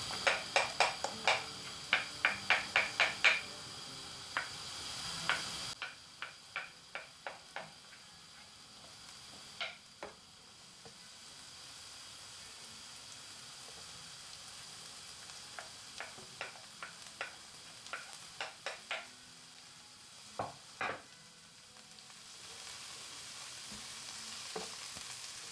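Potatoes frying in a pan give a faint steady sizzle, with sharp ticks and clicks of stirring utensils scattered throughout, loudest and densest at the start.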